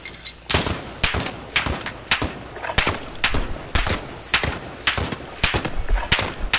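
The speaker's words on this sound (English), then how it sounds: "What are you shooting at, bro?" Video game gunfire rings out in steady, loud, close bursts of sharp shots, repeating at a fairly regular pace for several seconds with no talking.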